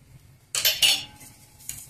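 Puffed rice snack being tossed with chaat masala in a bowl, giving a burst of dry rustling and light clinking that starts abruptly and fades within about a second, followed by a softer second stir.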